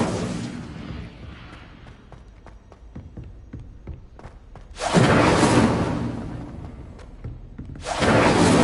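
Incendio fire spell cast in a Harry Potter video game, two loud whooshing roars of flame, each bursting suddenly out of a quieter stretch of scattered light clicks and taps.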